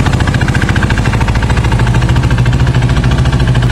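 KTM 390 motorcycle fitted with a barrel exhaust idling up close, a rapid even single-cylinder thump that stays loud and steady without any speech.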